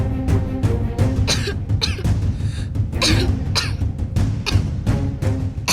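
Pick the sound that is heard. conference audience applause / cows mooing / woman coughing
woman coughing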